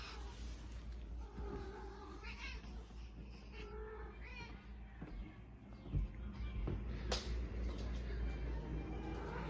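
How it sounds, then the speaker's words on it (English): A cat meows faintly and intermittently indoors in a quiet room, somewhat distant, with no one speaking. "You probably couldn't hear it over Gotham meowing behind me"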